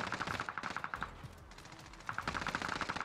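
Automatic gunfire in Call of Duty Warzone on Fortune's Keep, rapid machine-gun bursts that rattle for about a second, pause, then start again, fairly distant and with no talk over them.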